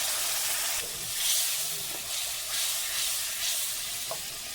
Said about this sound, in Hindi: अब हम इसमें टमाटर जो है लार्ज साइज़ का पेस्ट वो हम इसमें ऐड करेंगे और अच्छी तरह से मिक्स करेंगे।